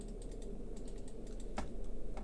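Fingers type on a computer keyboard in quick, uneven bursts of close, crisp key clicks, with no talk.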